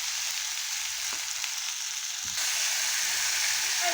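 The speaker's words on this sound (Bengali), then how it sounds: "এখন ভেজে রাখা ইঁচড় আলু চিংড়ি মাছ সব আমি একসঙ্গে দিয়ে দিলাম।" Fried jackfruit, potato and prawns tipped into spiced masala sizzle loudly and steadily in the pan, a dense continuous crackle that swells slightly louder partway through.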